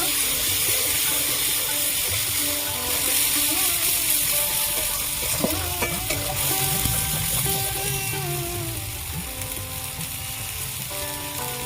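Food sizzles and fries steadily in a pan for a new Bengali recipe, a continuous close hiss and crackle with faint clinks of a utensil, no talking.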